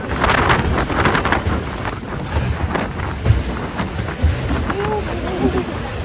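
A Shotover Jet boat races along a river gorge near Queenstown, New Zealand, its engine drone and rushing water mixed with strong wind buffeting the microphone, with a few faint voices and brief shouts.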